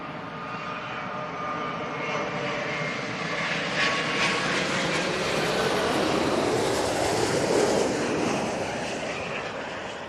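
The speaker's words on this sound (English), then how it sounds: "Virgin Atlantic Dreamliner in from Montego Bay" A Virgin Atlantic Boeing 787 Dreamliner landing at Heathrow, arriving from Montego Bay: a loud, broad jet roar that swells toward the middle and stays strong to the end, heard alone.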